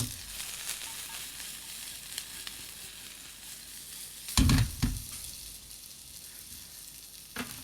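Garlic and rosemary sizzling in a steak pan, a low steady hiss with a few short bursts of louder spattering and clatter partway through, close and with no voices.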